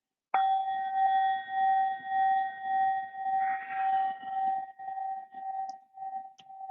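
A struck meditation bell rings out once with a clear, sustained tone, held steady and then gently pulsing as it slowly decays, alone without talk.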